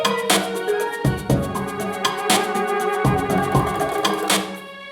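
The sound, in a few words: full music track from video game Unrailed, all instruments together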